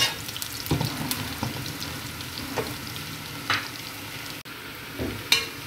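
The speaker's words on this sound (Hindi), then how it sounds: "प्याज को हमने जो है वो थोड़ा सा ही फ्राई करना है, हल्का सा, ज़्यादा फ्राई नहीं करना।" Onions fry with ginger and garlic in a pan, a soft continuous sizzle broken by occasional stirring scrapes and clinks, close and moderately quiet.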